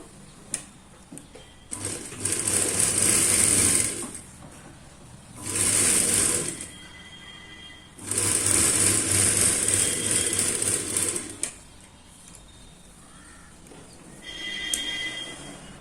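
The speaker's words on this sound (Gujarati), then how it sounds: "હવે આપણે આગળની સાઈડ સિલાઈ કરવાની છે આ રીતે." Sewing machine stitching the front side of boys' shorts, running in three loud, steady whirring bursts separated by pauses, with a shorter final burst near the end.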